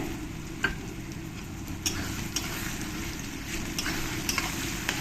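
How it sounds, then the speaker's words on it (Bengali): Onions frying in a pan for butter mutton curry, a steady low sizzle and crackle with a few brief clicks of stirring, close and alone. "বেশ লাল লাল করেই আমি পেঁয়াজগুলো ভেজে নেবো"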